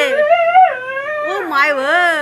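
A pet puppy whines and howls in drawn-out, wavering high-pitched cries, two separate vocal phrases rising and falling up close, with no talk over it.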